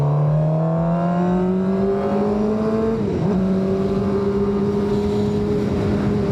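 A Suzuki GSX-R 750 sport bike engine heard from the rider's helmet while cruising through town, a steady loud droning note that dips briefly and then settles again, with constant wind rush underneath.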